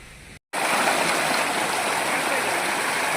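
Waterfall at Lonavala roaring steadily and loudly close by, a dense continuous rush of falling water after a brief silent cut at the start.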